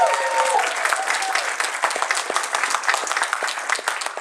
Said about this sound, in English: really a big, big round of applause for Chaz